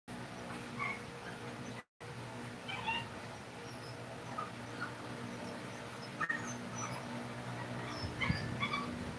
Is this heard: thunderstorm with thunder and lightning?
no